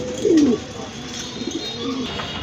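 Pigeons kept for sale coo close by, with one clear throaty coo at the start and softer calls after it, over a low background murmur.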